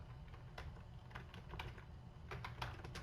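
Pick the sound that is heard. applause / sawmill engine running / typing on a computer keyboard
typing on a computer keyboard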